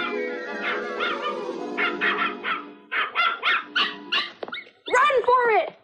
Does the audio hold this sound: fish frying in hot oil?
no